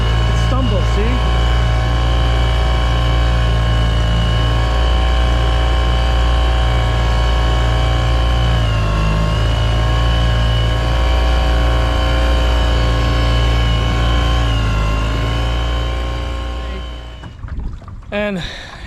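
A faulty boat outboard motor runs steadily at close range with a low droning hum, its pitch wavering slightly as it stumbles, before cutting out near the end.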